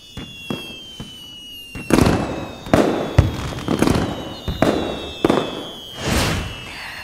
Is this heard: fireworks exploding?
yes